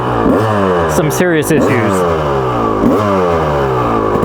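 A modified 1998 Yamaha YZ250 two-stroke dirt bike revs hard in repeated sharp bursts up and down, loud and close, with someone talking over it.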